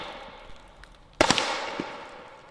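A 12 gauge shotgun barrel fitted to a harpoon fires at a target from 5 yards: two sharp, loud blasts in rapid succession, with a short echoing tail afterwards over quiet outdoor background.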